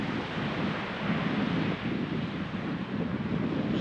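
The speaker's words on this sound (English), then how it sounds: "Sorry if the wind's awfully shocking." Wind blowing hard on a sea beach at Withernsea, a loud continuous rumbling buffet of gusts against the microphone, with distant surf mixed underneath and no voices.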